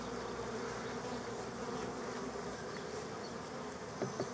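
Honey bees hum steadily around an open hive frame of capped nectar while being moved to a long bench hive, a close, continuous buzz with individual bees passing near, and no talking.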